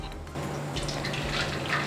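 An egg going into hot oil in a wok over medium-high heat, a continuous broadband sizzle and crackle, steady and close, with no talking.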